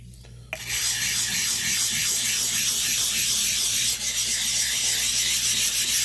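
A straight razor drawn over a Naniwa Pro 600 whetstone gives a steady, continuous wet rasp. The rubbing runs close and loud without pause, with faint rhythmic strokes throughout and no voices.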